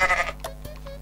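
A goat in Goat Simulator bleats once, a short nasal wavering cry at the start that fades within a fraction of a second and leaves a quiet background with a few faint taps.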